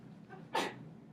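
A single short sneeze bursts out once in a quiet room during a maths review lesson, brief and moderately loud against a soft steady background.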